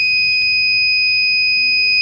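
An Arduino-built smart toilet's buzzer gives a loud, continuous, steady electronic alert tone that holds unbroken for the whole couple of seconds.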